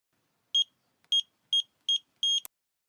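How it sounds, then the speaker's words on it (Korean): A digital door-lock keypad at a home's front entrance gives five short, clean electronic beeps spaced about half a second apart as a passcode is entered, the last tone running slightly longer, all heard alone against silence. "현관 도어락 비밀번호 누르는 소리가 들렸습니다"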